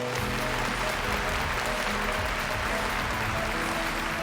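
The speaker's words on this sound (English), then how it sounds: "So if you would give a warm round of applause for Mr." An audience gives a steady round of applause for a guest speaker at a talk, dense continuous clapping at moderate level throughout.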